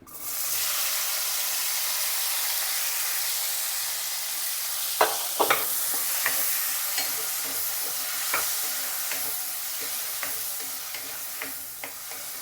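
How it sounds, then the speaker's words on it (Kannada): Raw green tomatoes frying in oil in a pan give a steady, close sizzle, punctuated after a few seconds by sharp taps and scrapes of a spoon stirring, with no talking. "ಟೊಮೆಟೊಕಾಯಿ ಇದನ್ನು ಇದನ್ನು ಅಷ್ಟೇ ಚೆನ್ನಾಗಿ ಹುರಿಬೇಕು ಎಣ್ಣೆಯಲ್ಲಿ"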